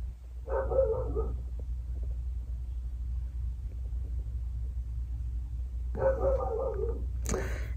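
A dog barks indoors in a home cluttered with moved furniture, two short bursts near the start and end over a steady low rumble.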